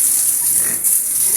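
Pigs on a farm grunt and squeal close by over a loud, unbroken rushing hiss. The sound stays dense and even for the whole short stretch.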